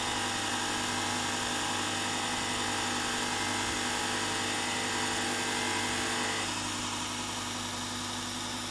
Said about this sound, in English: I'm going to take that off on the diamond wheel